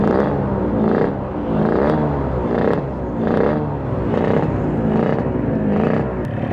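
A Suzuki Satria two-stroke motorcycle engine, compression and piston just reworked, revving close and loud in repeated rising pulls, its rough buzzing note swelling and dropping in an even rhythm.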